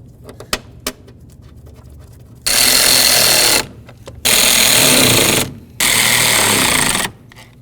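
Wiper motor bolts on a Chevy S-10 are run in with a power tool, three loud buzzing bursts of roughly a second each, preceded by light metallic clicks and taps.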